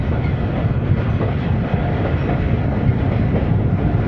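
The Khushhal Khan Khattak Express runs on Pakistan's ML2 railway line, giving a loud, steady, close rolling rumble of wheels and carriages throughout, with no voices.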